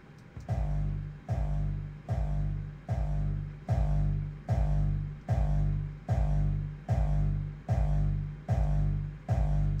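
A hardstyle kick drum shaped with clip distortion and EQ thumps in a steady loop, about eleven loud, distorted, booming hits evenly spaced a little under a second apart, with nothing else playing.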